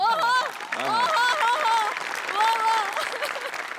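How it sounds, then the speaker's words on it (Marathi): A live comedy show audience claps loudly throughout after a performance, with excited voices and cheers rising over the applause. "म्हणजे बनेसाठी टाळ्या."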